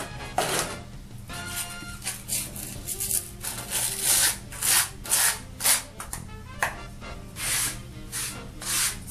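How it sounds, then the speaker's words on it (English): Grout pressed and rubbed into tile joints during a DIY grouting job, a steady run of scraping, smearing strokes with a soft rhythmic swish, close up and alone. "what we're doing here is just smushing it into the creases"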